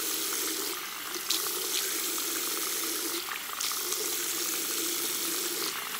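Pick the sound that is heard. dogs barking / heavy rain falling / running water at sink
running water at sink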